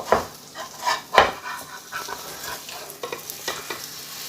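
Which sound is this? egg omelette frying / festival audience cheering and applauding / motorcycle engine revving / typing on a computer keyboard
egg omelette frying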